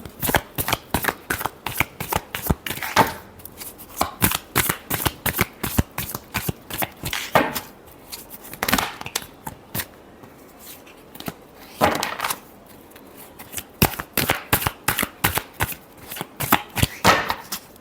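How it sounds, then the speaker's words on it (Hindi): A deck of tarot cards shuffled by hand, a continuous run of rapid riffling and flicking bursts, close and crisp, with brief pauses between passes. "last shuffle"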